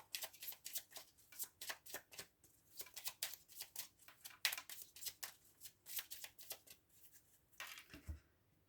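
Lenormand cards being cut and shuffled, a long run of quick riffling and shuffling flutters, close and soft, continuing steadily with brief breaks.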